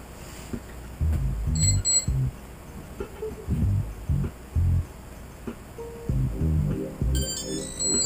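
A quadcopter ESC powered up on a drone build enters programming mode, giving several short tonal beeps in bursts alongside low handling thumps, with a brighter beep sequence near the end.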